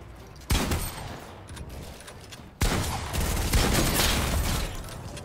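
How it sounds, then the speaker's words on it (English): Heavy sniper rifles firing in the Fortnite battle royale game, with two sharp loud shots a couple of seconds apart, each followed by a sustained noisy roar of battle sound, no talk. "hearing two heavy snipers just continue to fire"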